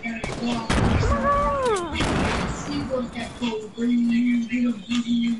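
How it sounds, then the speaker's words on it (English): Video game gunfire with many players shooting at one target, sharp bursts and shots at the start under excited voices, followed by sporadic cracks as a person keeps talking over the action. "They're just all just firing at like this one dude."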